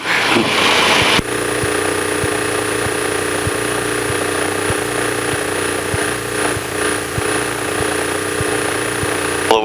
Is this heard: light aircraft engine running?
yes